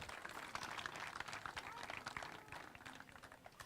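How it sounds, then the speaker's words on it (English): An indoor audience at a 2018 MLB roundtable event applauds steadily, a dense wash of clapping that holds even and moderately loud before easing slightly toward the end. "Just want to give them a big round of applause, please"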